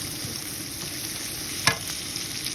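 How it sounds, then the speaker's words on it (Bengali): Onions sizzle in hot oil in a pan while a utensil stirs them, a steady frying hiss with one sharp scrape or clink partway through. "পেঁয়াজগুলো ভাজা হয়ে গেছে"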